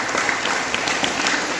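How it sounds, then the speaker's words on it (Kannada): Dense, sustained applause from the audience honoring Nirlagi village devotees at a Basava Purana religious festival, a continuous wash of many hands clapping at fairly close range. "ಸ್ವಲ್ಪ ಜೋರಾದ ಚಪ್ಪಾಳೆ ಇದೆ"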